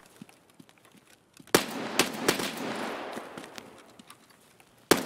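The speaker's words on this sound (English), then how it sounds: "That's you shooting?" Gunfire in Escape from Tarkov: a few sharp, loud shots punctuate a quieter background, with a cluster of cracks early and a rattling burst, then another single shot near the end.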